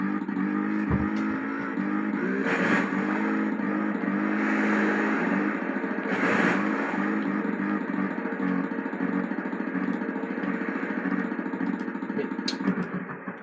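A motorcycle engine in a Tomb Raider video game drones continuously at high revs, loud and close, with a few brief clattering bursts and almost no speech.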